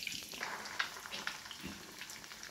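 Mutton cheese boti kabab pieces coated in egg and breadcrumbs fry in hot oil, a steady broadband sizzle with faint crackles throughout.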